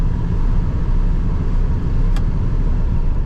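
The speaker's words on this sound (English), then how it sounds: "This car starts and runs really good. Idle's good." A 1950 Oldsmobile Futuramic Club Coupe street rod with an automatic transmission idles steadily with an even, low rumble, close and alone, broken only by one brief click.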